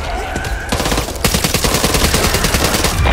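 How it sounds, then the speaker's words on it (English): Rapid automatic gunfire in the zombie shooter Back 4 Blood, loud close bursts of many rounds in quick succession that carry on nearly nonstop through the clip. "Watch where you shoot, man!"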